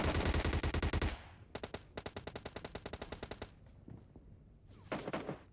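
Automatic rifle fire in PUBG Mobile Lite, a Groza versus S12K fight: rapid loud bursts of shots in quick rhythmic strings, broken by brief pauses and a final close volley.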